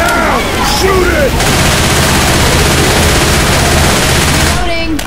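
Rapid sustained automatic gunfire aimed at the Tank in Left 4 Dead 2, a loud dense fusillade filling the whole clip, with brief shouted voices over the start and end.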